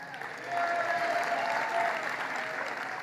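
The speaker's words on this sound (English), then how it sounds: "clap for the one you like best" Audience at a political rally claps in a sustained burst of applause that swells after a brief quiet start and holds steady, dense and moderately loud, with a faint crowd murmur beneath.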